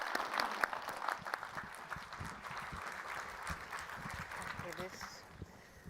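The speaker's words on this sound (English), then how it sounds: "Let's welcome Ragna Sara to the stage with an applause" Scattered applause from a design conference audience greeting a speaker at DesignMarch 2022, light and uneven clapping at moderate distance with faint voices mixed in.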